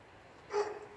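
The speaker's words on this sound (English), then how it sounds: "There's a dog watching and it doesn't like it." A dog nearby gives a short burst of unhappy whimpering barks and yips, loudest in the middle of the moment, then starts again briefly at the end over a quiet outdoor background.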